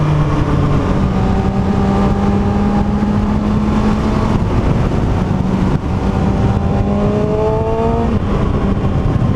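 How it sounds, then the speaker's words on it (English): A 2019 Kawasaki ZX6R sport bike engine pulls hard through rising revs, with quick-shifter gear changes breaking the whine into stepped climbs under steady loud wind roar from the rider's position. "Getting that quick shifter working."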